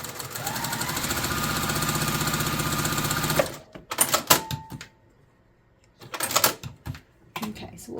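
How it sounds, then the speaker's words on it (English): Domestic sewing machine stitching quilt pieces along a bottom row, a steady continuous whir and rapid needle chatter for about three seconds, then stopping, followed by intermittent short bursts and handling noises. "I'm going to take this and sew it across the bottom here first."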